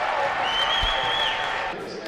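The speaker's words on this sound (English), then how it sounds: "he's hearing it from the Thompson Arena crowd" A college hockey crowd at Thompson Arena roars after a big save by the goalie, a sustained cheer with some applause, while a commentator talks over it.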